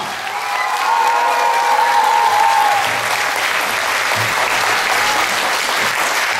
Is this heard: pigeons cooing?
no